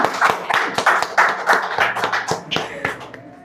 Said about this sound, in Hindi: ये एक बार जोरदार तालियां हो जाए